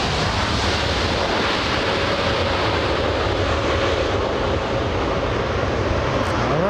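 A Lufthansa airliner takes off from runway 24 left at LAX, its jet engines producing a loud, steady broadband roar that holds for several seconds without any voices.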